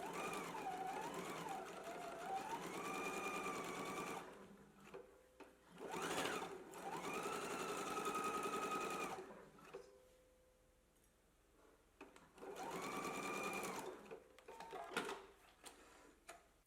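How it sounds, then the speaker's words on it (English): A sewing machine stitches darts in fabric in several runs of steady whirring, some lasting a few seconds, with short pauses and faint handling noises between them. "Let's go ahead and stitch our darts in place now."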